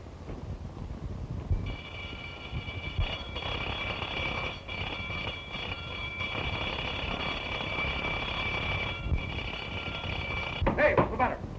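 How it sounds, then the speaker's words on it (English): An alarm bell rings continuously for about nine seconds, a loud metallic electric clang over a rumbling, crackly old film soundtrack. It cuts off abruptly near the end as a voice begins to speak. "Sound the alarm, quick."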